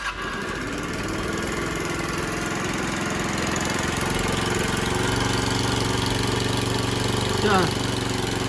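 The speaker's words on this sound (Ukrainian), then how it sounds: "Скутерок наш працює, так що погнали збирати." An old scooter engine from the last century runs continuously after starting, a steady mid-pitched buzzing drone that holds loud and close throughout with a slight rise near the end.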